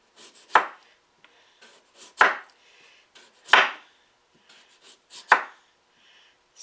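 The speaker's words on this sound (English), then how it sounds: "Sorry for my wooden cutting board noise." A knife chops skin-on potatoes on a wooden cutting board in four sharp, loud, evenly spaced strikes, with softer taps between them in a quiet room.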